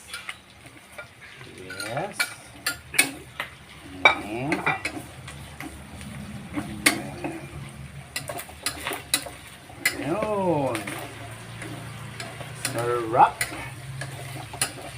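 Onions sauté for menudo in a pan. A soft sizzle runs throughout, broken by repeated clanks and scrapes of a utensil stirring. Voices talk over the cooking at moments.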